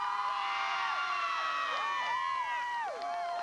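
Moline Maroons fans cheering at a 2004 high school boys' basketball game in Carver Arena, Peoria, a dense roar of shouting and whooping voices from a packed crowd, continuous and loud.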